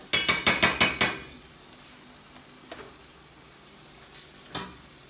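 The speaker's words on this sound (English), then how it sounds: "we start stirring this meat up so it can all cook together" Meat is stirred in a frying pan, opening with six quick rhythmic scrapes against the pan, then a low sizzle with two more isolated knocks.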